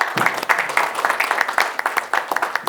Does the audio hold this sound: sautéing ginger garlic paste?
no